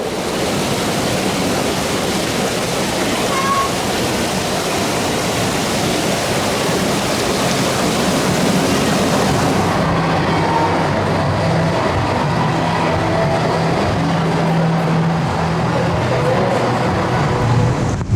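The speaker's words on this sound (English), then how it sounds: "I'm on a water coaster in Germany in December." Poseidon water coaster at Europa Park in Germany, ridden in December: a loud, continuous rush of wind and rumbling track noise fills the whole ride segment, with splashing water texture and no talk.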